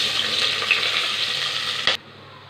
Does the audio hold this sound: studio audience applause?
no